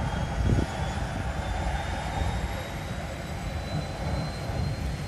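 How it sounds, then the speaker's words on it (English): A small airplane engine revving up for takeoff at a harbour in Vancouver, a steady distant drone with a faint whine that holds constant throughout, with no talking. "It is a tiny airplane for sure."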